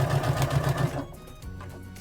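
A sewing machine stitches down the side seam of a dress top, a steady loud whirring run for about a second before it slows and stops, leaving quieter fabric handling.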